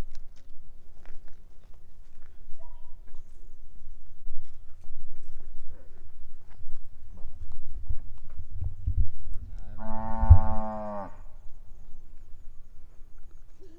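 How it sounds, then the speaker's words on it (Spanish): A cow on a farm in the countryside lets out one loud, drawn-out moo near the end, close to the microphone, after quiet rustling, soft footsteps and faint outdoor ambience. "Déjame grabar la vaca, parece que quiere que la graben también."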